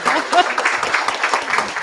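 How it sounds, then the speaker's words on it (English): A short burst of clapping from a group, with voices chattering over it. "let's all give a big round of applause to Bindu."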